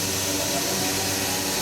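A CNC router's vacuum table pump runs with a steady, loud broadband hiss and droning hum, unchanging throughout the brief stretch with no voices.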